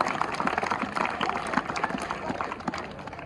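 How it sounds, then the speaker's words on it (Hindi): Audience applause at a retirement honour ceremony for a teacher, dense steady clapping from a large crowd close by, sustained for the whole stretch. "एक बार उनके लिए भी जोरदार तालियां बजाएंगे जो मंचस्थ उपस्थित हैं।"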